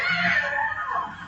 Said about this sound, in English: Now start screaming. Go ahead, start screaming.